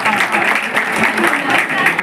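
Steady, dense applause fills a hall at a Dhanka community gathering honoring a girl who placed third in class 11. Someone speaks over the clapping throughout.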